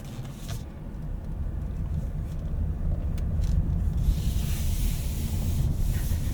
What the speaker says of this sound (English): let's go for a drive in this new Camry XSE and see what it's like on the road